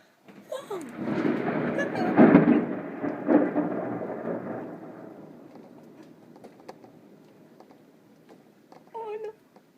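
Thunder in a storm rolls in a long, loud rumble that swells early and slowly fades over several seconds, with a brief vocal sound near the end.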